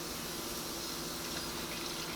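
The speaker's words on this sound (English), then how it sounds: "So now I'm gonna go ahead and add my cup of water." A cup of water is poured into a seafood boil pot, making a soft, steady splashing trickle that runs continuously for about two seconds, faint and close, with no talking.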